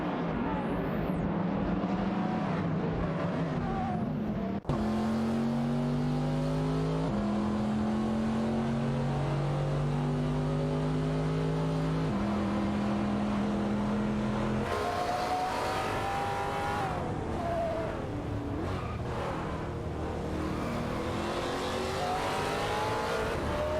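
Race cars in a video game, Cadillacs battling a BMW M512, roar continuously with engine notes rising and shifting through gear changes, several cars close together and loud throughout.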